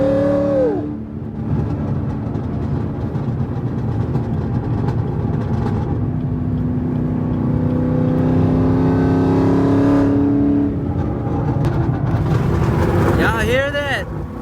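A 2017 Chevrolet Camaro SS V8 fitted with Kooks headers revs loudly and up close, its engine note rising and falling across several throttle blips, with voices talking over it.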